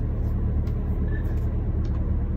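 Steady low engine rumble fills the cabin of a car parked beside a neighbor's car as it begins pulling away, a constant close hum without speech.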